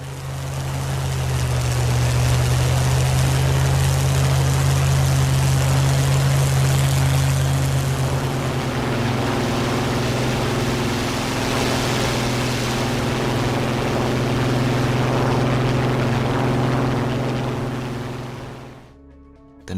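Rolls-Royce Merlin and Griffon engines of Spitfire fighters drone steadily in a loud, continuous propeller roar, the tone shifting partway through from one engine to the other before fading out at the end.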